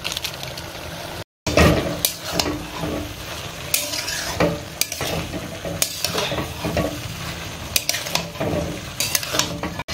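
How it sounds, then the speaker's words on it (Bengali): Chowmein with Maggi masala being stirred in a pan, a steady sizzle broken by repeated scraping and clinking of a utensil against the metal, fairly close and without talk. "একটা দিলেই এনাফ, বেশি লাগবে না। চলো একটু নাড়িয়ে নিই।"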